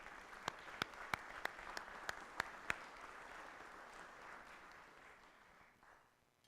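Audience applause at a Toledo Rotary club meeting as a Paul Harris Fellow is called to the stage: a few sharp, distinct claps stand out over a broad wash of clapping that gradually fades away.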